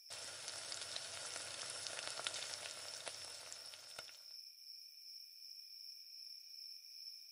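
Fish sizzling in a frying pan as a cartoon sound effect: a dense, steady crackle for about four seconds that then cuts to a thin, high lingering hiss, with no voices.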